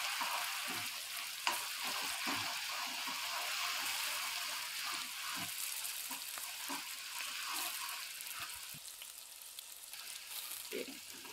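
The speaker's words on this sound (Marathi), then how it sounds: "ही टोमॅटोची पेस्ट थोडी तेल सुटेपर्यंत परतून घ्या" Tomato paste sautéing in a little oil for sev bhaji, a faint, soft continuous hiss with scattered light scrapes and taps of stirring over about eleven seconds.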